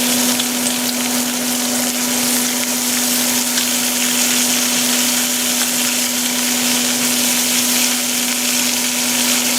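Vegetables sizzle loudly and steadily in a pan beside pork chops, forming a dense, unbroken frying hiss with a constant hum underneath.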